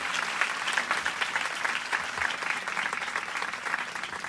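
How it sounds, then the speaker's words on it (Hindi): A large audience at a religious hill meeting in Aampada claps loudly and steadily, a dense, even wash of applause that holds for the whole stretch with no voices on top. "और इस प्रभु के लिए बहुत बड़ी ताली बजाए, आणि त्या प्रभु माटे जोरदार ताळी, और जोर से ताली बजाए।"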